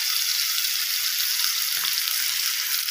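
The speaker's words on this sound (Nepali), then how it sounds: "यसलाई चाहिँ म यहाँ भुट्दैछु, पकाउँदैछु। मैले यहाँ राखेँ पिसेको जिरा।" Ground cumin fries in a hot pan with a steady, bright sizzle that continues unbroken, close and fairly loud, with a faint stir partway through.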